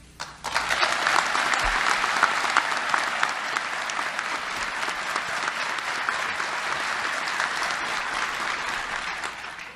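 An auditorium audience at an FBI National Academy graduation bursts into loud, sustained applause welcoming the FBI Director, steady dense clapping lasting several seconds before easing slightly.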